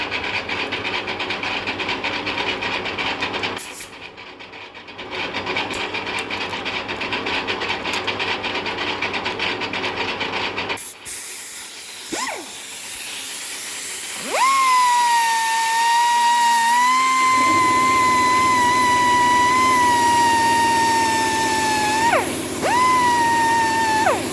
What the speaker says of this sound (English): I use a polishing wheel to clean it up